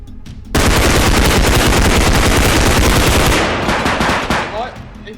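Sustained automatic gunfire from the Bodycam video game erupts after a brief lull, a loud, dense, rapid burst of shots close by that keeps hammering for several seconds before thinning out.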